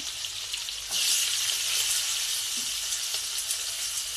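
Onions and green chillies fry in a pan for an egg curry, a steady bright sizzle that jumps louder after about a second and then keeps crackling evenly, with no talk.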